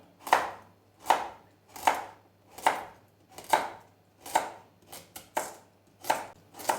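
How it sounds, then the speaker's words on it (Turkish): A knife chops carrots into rounds steadily on a cutting board, about ten even, crisp strokes at a regular pace, close and clear with no talking. "Yuvarlak yuvarlak doğrayacağım."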